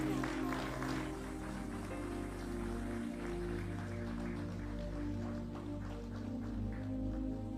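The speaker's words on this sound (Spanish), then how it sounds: "¿Cuánto le pueden dar un fuerte aplauso al Señor?" Sustained applause from a church congregation, a dense steady patter of clapping filling the whole stretch, with music faintly underneath.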